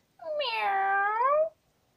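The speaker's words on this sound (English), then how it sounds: "With a meow meow here, with a meow meow there" A single drawn-out cat meow, bright and harmonic, rising then gently falling over about a second and a half, close and clear with no talking, amid a children's farm song.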